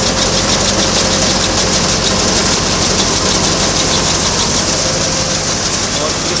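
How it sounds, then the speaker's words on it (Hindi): An old Mahindra B275 tractor drives a Sonalika wheat thresher in a field, giving a loud, steady, continuous engine-and-machine roar with a constant drone and no pauses. "बाकी मैं आपको भूसा दिखा देता हूँ कि कितनी अच्छी थ्रेसर मशीन चल रही है।"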